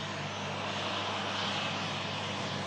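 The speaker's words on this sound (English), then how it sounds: "the Egypt Air flight from Cairo A321 Neo aircraft coming in from Cairo" An EgyptAir Airbus A321neo on approach produces a steady, broad jet-engine roar, loud and continuous throughout without any distinct change in pitch.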